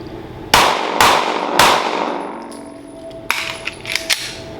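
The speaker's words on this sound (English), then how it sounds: "I'm going to fire 2 to the chest, 1 to the head." Three rapid pistol shots ring out at a range target, evenly spaced and loud, then after a pause a cluster of fainter clanks and pings follows.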